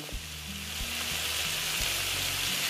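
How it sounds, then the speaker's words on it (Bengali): Hot water hits a sizzling egg curry masala in a pan, giving a loud, continuous hiss and bubbling that builds steadily with a few low knocks underneath. "এবার আমি এখানে গরম জল অ্যাড করব।"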